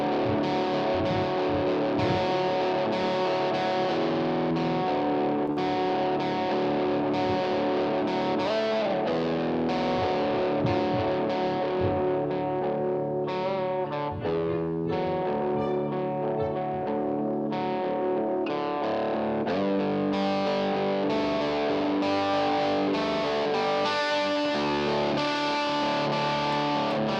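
Electric guitar played through a distortion effect, thick saturated chords and sustained notes ringing out continuously and loudly with no talking.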